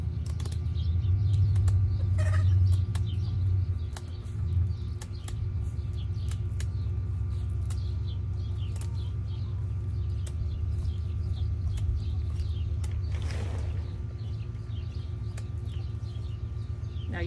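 A hen in a garden coop clucks and flaps while her wings are clipped, with a burst of wing flutter and squawking early on and a soft rustle over a steady low hum.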